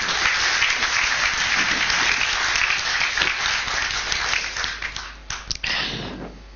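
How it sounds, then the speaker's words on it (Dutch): An audience at a university Studium Generale lecture applauds as the speaker is introduced, with steady, dense clapping that thins toward the end into a few last scattered claps. "Mag ik een applaus voor Koos Jaspers?"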